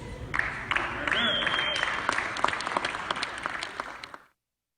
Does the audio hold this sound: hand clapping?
yes